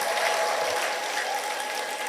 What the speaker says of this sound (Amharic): አንድ እልልታና ጭብጨባን አድርጎ ወገኖች፣ እልልታና ጭብጨባ።